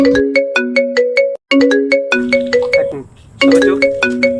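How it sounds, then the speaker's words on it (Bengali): A loud, close melodic phone ringtone for an incoming call, repeating a chiming tune in short phrases with a brief gap before resuming. "আমার বস ফোন দিছে হ্যাঁ"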